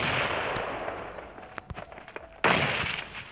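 A thrown grenade detonates in PUBG Mobile, preceded by a noisy rumble and a few sharp clicks, then a sudden loud blast about two-thirds through that fades away.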